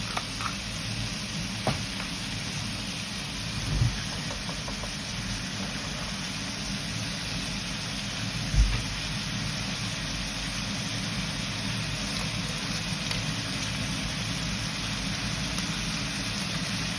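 Heavy storm rain falling steadily, a dense continuous hiss with a few faint knocks and thumps, constant and moderately loud throughout, with no voices.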